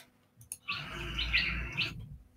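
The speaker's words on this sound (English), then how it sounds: "I'll go for tropical birds." Tropical birds chirp and tweet in a bright, steady chorus from a Scratch sound library, loud and clear for over a second, with a couple of short clicks before it starts.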